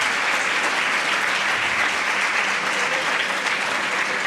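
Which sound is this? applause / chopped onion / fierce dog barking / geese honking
applause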